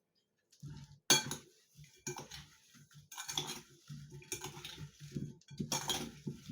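Pumpkin filling being stirred with sugar in a dish, heard as close, irregular clinks and scrapes of a utensil against the dish in short bursts with quiet gaps between.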